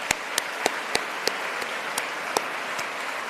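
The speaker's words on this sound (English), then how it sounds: "Round of applause for Enid." An audience at a graduation ceremony gives a round of applause for a helper. The claps are sparse and fairly close, with sharp individual hits spaced out over a steady background murmur.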